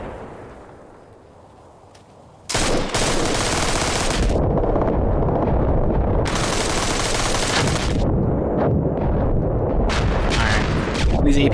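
Heavy automatic fire with armor-piercing rounds in the Arma Reforger military shooter, loud sustained bursts and rattling shots dominating after a quiet opening, with a voice talking over the din.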